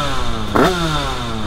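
A 50cc MRT motorcycle tuned to about 30 hp, fitted with a quickshifter, buzzes loudly nearby with a quick shift mid-rev, the engine note dipping and then climbing again over a short burst.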